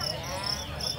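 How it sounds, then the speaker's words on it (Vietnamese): A fighting cricket, a tomato-type field cricket, chirps in short repeated high trills, faint and close, over a soft low murmur in the background. "con dế Khoa mang tới là con dế cà chua"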